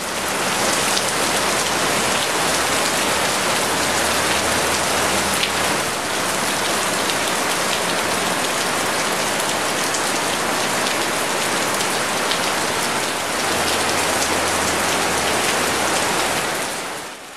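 Heavy tropical rain pours down near Ubud in Bali, a dense, loud, unbroken hiss of drops drumming on surfaces all around, with no voices.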